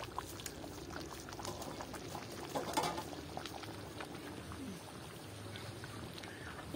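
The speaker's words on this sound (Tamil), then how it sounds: "இந்த குழம்பு இப்ப கொதிச்சு கொண்டிருக்குது." A pot of thick chicken curry bubbles and simmers continuously, with a dense, steady gurgling close by and no voices.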